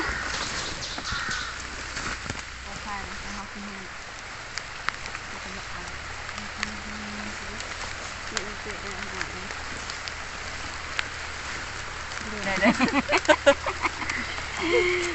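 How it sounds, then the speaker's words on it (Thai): Steady rain falls through a forest during a hunt for bamboo shoots, a soft continuous hiss with crows cawing now and then and voices talking over it. "ฝนตกเนาะมันก็เมือกเนาะ"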